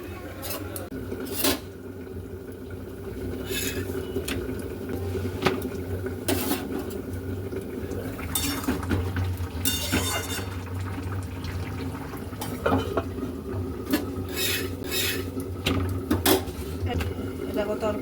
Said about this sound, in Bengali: চলো ভেজে নিই রুটিগুলো